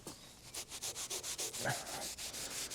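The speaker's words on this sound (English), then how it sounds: "give that a good rub" Repeated back-and-forth rubbing on a tractor part under restoration, a steady rhythmic scrubbing of roughly a dozen strokes, close and fairly loud, with no talking.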